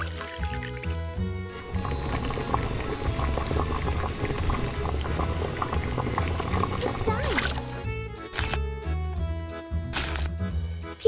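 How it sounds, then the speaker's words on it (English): Water boiling hard in a miniature pot, a loud continuous bubbling and seething that runs throughout, briefly breaking into sharper pops and clinks near the end over a faint musical backdrop. "boil it. Water."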